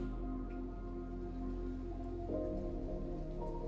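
Soft morning drizzle in a video game, a faint steady patter of raindrops under a low sustained musical drone.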